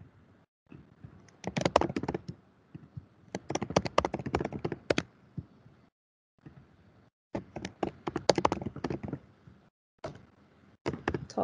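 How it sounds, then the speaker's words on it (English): Fast bursts of typing on a computer keyboard during a lecture, clattering in several rapid runs separated by short pauses, close and fairly loud with no talk over it. "See how quick I can type under pressure."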